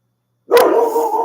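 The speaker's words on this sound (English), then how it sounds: "she has a dog to bark at" A pet dog gives a single close, loud bark that trails into a brief whiny yelp, right after a short silence.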